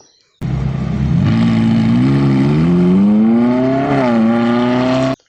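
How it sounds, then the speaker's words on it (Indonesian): Toy race car engine sound effect revving steadily and rising in pitch, loud and close, running alone for about five seconds. "ini mobil balap."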